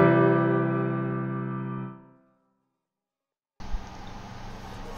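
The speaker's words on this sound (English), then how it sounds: "For example, a major chord in 14 EDO sounds like this." A major chord tuned in 14-tone equal temperament rings as a sustained, slightly out-of-tune harmony for about two seconds and fades to silence, followed by a steady hiss of background noise.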